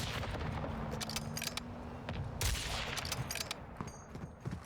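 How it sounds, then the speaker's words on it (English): Gunfire in the Call of Duty DMZ video game, a steady stream of sharp shots and bursts over a dense, noisy battle backdrop that runs through the whole stretch. "Shoot him a few times."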